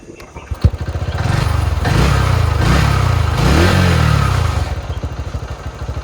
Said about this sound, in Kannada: ಇದು ಗಾಡಿ ಸ್ಟಾರ್ಟ್ ಆಗ್ತಿದೆ ನೋಡಿ